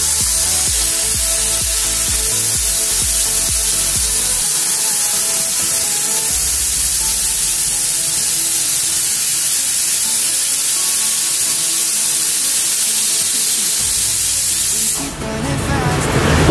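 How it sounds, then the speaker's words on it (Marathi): A pressure cooker cooking khichdi on a home stove lets out a loud, continuous hissing steam whistle that holds steadily for about fifteen seconds before cutting off abruptly. "सो गाईज माझ्या कुकरची पहिली शिट्टी रेडी होणार आहे"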